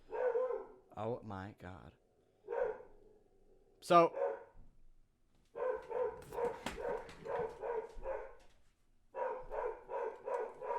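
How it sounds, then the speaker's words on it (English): A pet dog barks repeatedly at an arriving delivery person, loud bursts of barking in clusters over several seconds, with a person speaking briefly in between. "the Amazon boy will be here momentarily, so I'm gonna have to go suppress my dog from killing him"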